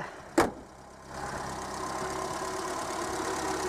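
A 1971 Renault 4L starts easily without throttle: a sharp click is followed by a short pause, then the engine settles into a steady, even idle close by.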